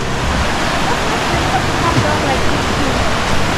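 A rain-swollen river rushes in a steady, loud broadband roar, close by and unbroken, with a voice faintly underneath.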